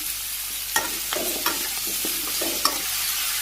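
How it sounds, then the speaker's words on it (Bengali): Bottle gourd pieces and green chilies fry in a pan with a steady hiss, while a spoon scrapes and stirs in several sharp, uneven strokes close by, with no talking. "এই যে লাউগুলো দিয়ে দিই কাঁচামরিচ একসাথে রাখছি"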